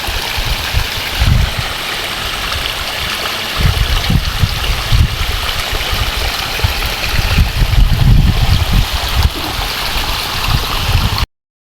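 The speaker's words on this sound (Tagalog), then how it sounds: "Malakas po ang ulan." Heavy rain pours down steadily in bad weather, a dense broadband wash with low gurgling and trickling water up close, loud and continuous throughout with no talking.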